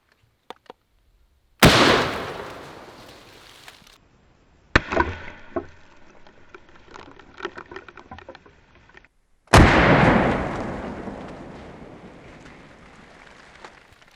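A Mossberg 500 shotgun fires 3-inch slugs at a pumpkin outdoors: two sharp, loud blasts several seconds apart, each trailing a long fading echo, with scattered knocks and rattles between.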